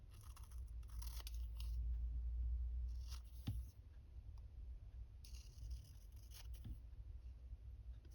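Scissors snip through a sheet of 12x12 scrapbook paper in a run of close, crisp cuts with short pauses, with soft paper rustling between them and no talking.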